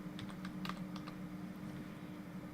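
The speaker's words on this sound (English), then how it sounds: "I would type in shop" A few quick keystrokes tapped on a computer keyboard, faint clicks over a steady low hum, with nothing else following.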